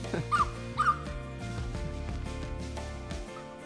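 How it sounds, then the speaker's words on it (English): A dog gives two short yips close by, followed by a steady low background hum. "I know you're barking too."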